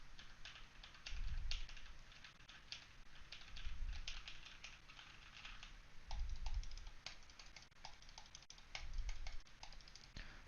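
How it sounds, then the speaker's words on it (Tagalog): Keys on a computer keyboard clack in quick irregular runs along with mouse clicks, close and moderately quiet, the typing coming in four denser bursts over a faint steady hiss. "magkiklik ako sa keyboard at sa mouse"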